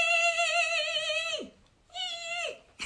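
A voice imitates a chick's cheeping with two drawn-out, wavering high peeps, each sliding downward at the end; the second is shorter.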